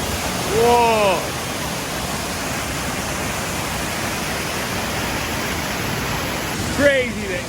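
The flooded waterfall at Sungai Buweh on Tasik Kenyir roars as a loud, steady broadband rush close by, and brief voices cut through it near the start and end.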